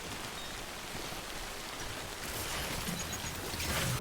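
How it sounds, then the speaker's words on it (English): Steady rain pours in Death Stranding, a dense even hiss that swells slightly louder toward the end. "the sound design and visual effect of the rain in Death Stranding is stupendous"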